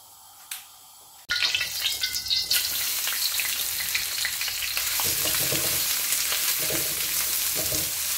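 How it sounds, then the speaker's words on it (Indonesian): Paprika and onion drop into hot oil with a sudden loud sizzle after a quiet moment, then fry with a steady crackling hiss, broken by occasional stirring scrapes. "ini paprika dengan bawang bombaynya ditumis dulu sampai agak-agak layu gitu ya"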